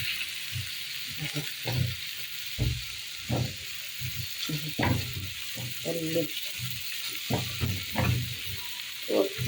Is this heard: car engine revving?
no